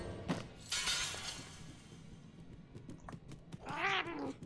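A cat in a video game gives a drawn-out meow near the end, following a sharp shattering crash early on and scattered clicks, all fairly faint.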